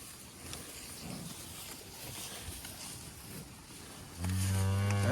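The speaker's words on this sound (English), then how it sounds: "This is an older cow. She's still packing her weight pretty good." Cattle on a hillside, an older, heavy cow among a herd coming down the slope, with a soft wind-like outdoor hush before one loud, close moo near the end.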